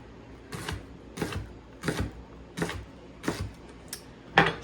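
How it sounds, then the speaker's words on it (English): A knife chops washed celery into small pieces on a board, seven sharp, evenly spaced cuts ringing out close and crisp with short pauses between each stroke. "I'm just gonna cut them into small pieces here"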